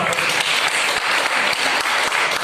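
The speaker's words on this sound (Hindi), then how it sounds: "जोरदार ताली के साथ" A crowd at a foundation gathering in India claps vigorously, producing dense, continuous applause with some louder individual claps standing out near the listener.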